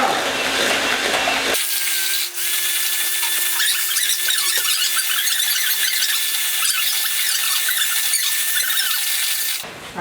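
An electric mixer whips cream cheese with fresh cream, giving a steady motor whine under continuous scraping and churning from the beaters that starts suddenly and cuts off about eight seconds later.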